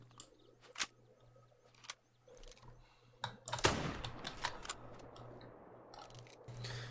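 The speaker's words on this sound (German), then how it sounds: "ihr hört leider ein bisschen die Tastatur und die Maus im Hintergrund." Computer keyboard keys and mouse buttons click sporadically in the background of a theHunter hunting game session, sharp isolated taps and short bursts over a low steady hum, with a denser cluster of clicks midway.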